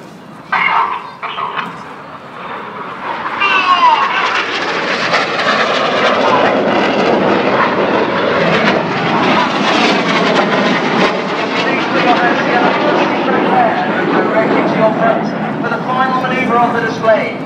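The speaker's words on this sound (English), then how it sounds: "This is the opposition barrel roll." Red Arrows jets flying the opposition barrel roll at Farnborough International Airshow, a loud sustained roar of jet engines building and holding as they pass, with a commentator's voice over the noise.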